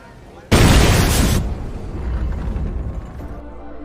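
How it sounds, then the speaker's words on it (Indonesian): A car packed with 110 kg of explosives, parked near a presidential building in a crowded film scene, detonates in one sudden, very loud blast that quickly fades into a low rolling rumble. "mobil itu meledak di tengah keramaian"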